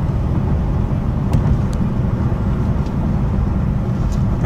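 Steady low engine drone from an Infiniti M56 car interior after a manual downshift to third gear, a constant rumble with faint road noise and no talk.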